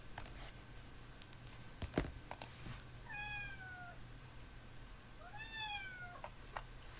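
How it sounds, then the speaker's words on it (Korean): A stock cat meow sound effect from a phone editing app's animal sound library: two distinct meows around the middle of the quiet clip, with a couple of short clicks before them. "여기 고양이 소리가 있으면 고양이 소리가 있네요"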